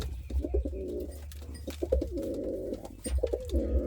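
An Indian fantail pigeon cooing nearby in repeated throaty, rolling phrases, with a low background rumble and no talking.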